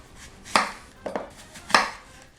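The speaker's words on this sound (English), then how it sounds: "Once I slice the apples, I don't actually core them out." Knife cutting through whole apples into rings on a cutting board, three distinct crisp crunching chops with sharp knocks against the board, close and clear in a quiet kitchen.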